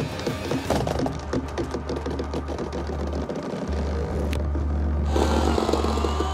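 A wooden beam cracks and splinters under heavy load from a tractor, which hums low underneath; several sharp snaps and creaks build to a loud break near the end.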